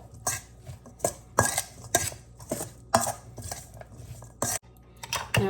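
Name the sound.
mixing vegetables into corn salad in bowl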